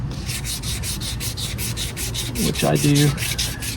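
Steady close-up hand rubbing of 320 grit sandpaper over a piece of driftwood, quick regular strokes throughout, with a short spoken phrase near the end.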